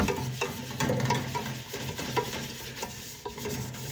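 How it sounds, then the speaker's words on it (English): Close scraping and rubbing as a burnt stainless steel pot gets scrubbed, a steady gritty swish with rhythmic strokes and faint metallic clinks, with no talking. "Really scrub it in there."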